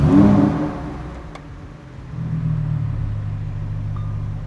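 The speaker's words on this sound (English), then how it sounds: "I'm sure you guys are anxious to hear the sound of this brand new Huracan STO" A brand new Lamborghini Huracan STO fires up with a loud surge, then settles into a deep, steady idle close by.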